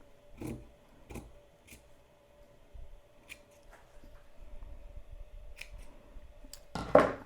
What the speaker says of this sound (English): So I'm gonna just snip that and start cutting around